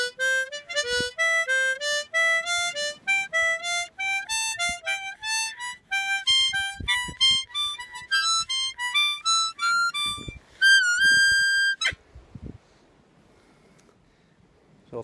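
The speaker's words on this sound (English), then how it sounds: "this is a diatonic harmonica lick that you can play" Diatonic harmonica plays a slow mixolydian lick, a clear run of single reedy notes stepping upward and back, ending on a held high note before silence and faint background noise.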